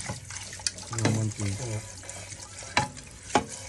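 Dishes are rinsed under running tap water without soap, with intermittent splashing and trickling bursts close by, and a voice speaks over parts of it.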